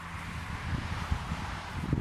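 Wind blowing outdoors at a camping spot, a steady rushing buffet with low gusty rumbles against the microphone, fairly faint and with no voices.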